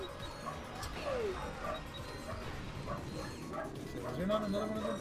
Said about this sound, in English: I apologize if you hear the dog barking.